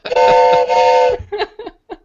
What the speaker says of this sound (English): please blow your train whistle, Steve